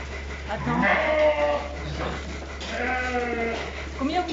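Sheep ewes on a milking farm let out two long, quavering bleats, close and prominent, with a low steady hum beneath them.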